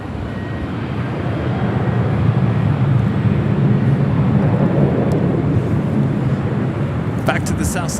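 A China Cargo Airlines Boeing 777 arriving at Los Angeles International Airport, heard as a loud, steady, broadband engine roar that holds for the whole stretch without a break.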